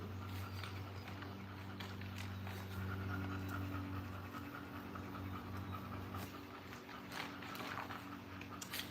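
A dog panting heavily and steadily, close by, the rapid breaths continuing without a break beside a low constant hum during outdoor soil planting.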